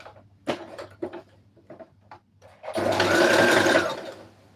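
A sewing machine stitches a spaced zigzag stitch on a red carpet dress, first in a few short separate bursts and then in a steady loud run that fades near the end, close up.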